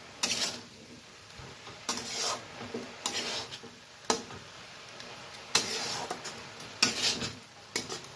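Cabbage being turned in a pan with a spatula, repeated scraping strokes every second or so against the metal over a faint background sizzle, close and fairly quiet, no voices.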